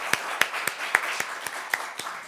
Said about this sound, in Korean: 우리 함께 감사의 박수